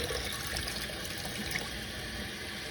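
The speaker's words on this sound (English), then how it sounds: "I'm gonna just let the water run on that nib and feed until it runs clear" Tap water running over a Lamy 2000 fountain pen nib and feed while rinsing out ink, a steady, soft splashing hiss from a faucet close by, continuous and without talk.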